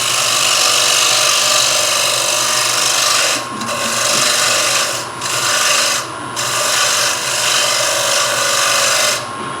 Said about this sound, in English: I'm going to go back to my skew chisel because I can get that down into this corner.